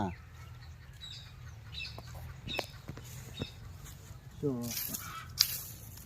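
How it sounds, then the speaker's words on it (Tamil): On a farmyard with goats nearby, a chicken gives a short burst of squawking clucks near the end, faint and partly under a person's talking over a low rumbling background. "இங்க ஆட்டை கூப்பிட்டா கோழி கத்துது"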